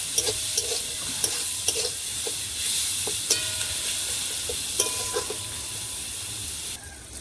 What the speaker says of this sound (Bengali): ওইদিকে পেঁয়াজটা ভাজা হতে লাগুক